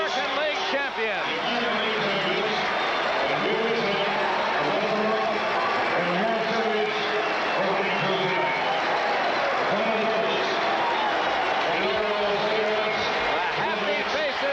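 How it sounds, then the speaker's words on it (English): Large baseball stadium crowd at the 1979 ALCS Game 4 in Baltimore, cheering and clapping in a steady dense roar as the Orioles win, with an announcer talking over the noise throughout. "listen to the crowd as they cheer the Angels"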